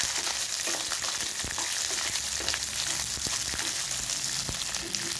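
Onion and green chili are stirred into aval upma (flattened rice) in a pan, making a constant crackling fry with scraping spoon strokes and light taps throughout.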